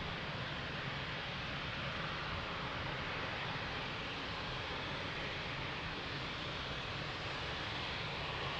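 Heavy broadband roar of an Azul Boeing 777 airliner on approach at Lisbon airport, a dense continuous rumble holding steady and loud without a break, no voices over it.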